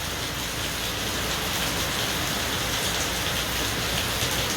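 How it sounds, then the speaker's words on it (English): Steady rain falls and patters on surfaces, a dense uniform hiss that stays constant and close with no voices. "sitting here chilling, just watching the rain"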